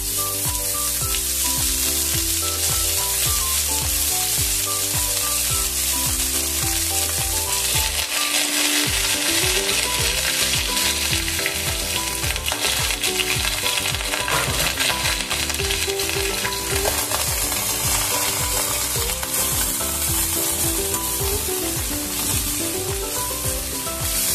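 Shredded cabbage tossed into chicken keema frying with whole cumin in a pan gives a loud, steady sizzle that surges and turns denser partway through, with music playing underneath.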